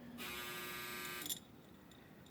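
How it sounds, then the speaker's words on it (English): A clothes dryer buzzer sounds indoors, one steady electric buzz lasting about a second, moderately loud, then stops and leaves a quiet room. "There's the dryer buzzing."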